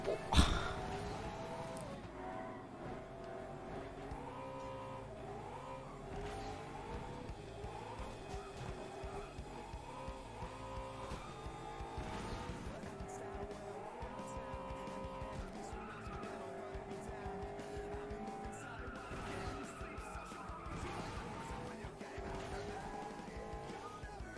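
Cars racing in FlatOut: Ultimate Carnage, a derby class event, with revving engines shifting pitch up and down and repeated tire squeals and skids over a steady engine roar, plus a sharp impact at the start.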